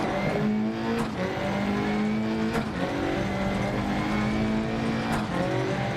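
A rally car in Dirt Rally 2.0 drives through Scotland, its engine roaring loud and close with rising and falling revs and brief shift breaks, sustained throughout without talk.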